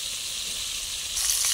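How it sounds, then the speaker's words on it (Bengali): Fish frying in a pan over a wood-fired clay stove gives a steady bright sizzle that swells louder near the end, close by, with no voices. "আর এই হচ্ছে মাছগুলো ভাজতে দিচ্ছি।"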